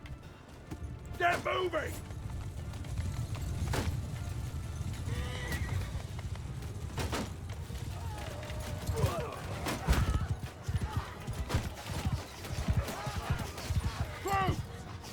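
Horses clatter and whinny amid a rumbling battle din in Mount & Blade II: Bannerlord, hooves and neighs recurring under occasional shouted voices.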